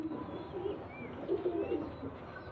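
A pair of Sylheti Kamagar pigeons of the Bicchu breed coo softly nearby in repeated low, throaty rolls, with no one speaking.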